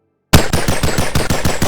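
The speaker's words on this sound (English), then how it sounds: "The gun sounds are also a little bit weird on this one." Rapid automatic rifle fire in the Boneworks VR game with a Modern Warfare mod: a sudden loud burst of about nine evenly spaced shots after a brief silence, close and punchy.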